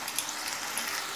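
Ginger paste frying in hot oil for a Bengali doi mach fish curry, giving a steady, soft sizzle and hiss up close with no talking over it.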